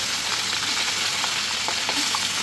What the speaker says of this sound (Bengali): এখন আমি ট্যাংরা মাছগুলো দিয়ে দিব, তেলটা গরম আছে, তেলে দিয়ে দিব।